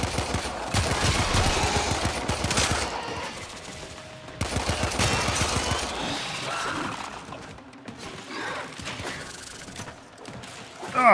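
Pistol gunfire in the sci-fi shooter Warframe, fired in a cramped interior: dense rapid volleys of sharp shots for several seconds, a brief lull, then more bursts fading into scattered clatter and mechanical noise, with a sudden loud hit at the end.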